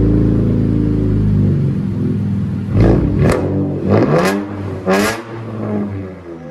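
A car engine revs hard in several loud bursts, the exhaust roaring and crackling between pulls, close and alone without talk.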